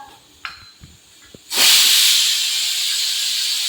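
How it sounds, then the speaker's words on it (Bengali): A pressure cooker on a home kitchen stove, cooking kabuli chickpeas and potato, bursts into a loud, steady rush of hissing steam after a few quiet knocks, and the hiss holds strongly to the end. "প্রেসারে সিটি পড়বে, প্রেসার কুকার"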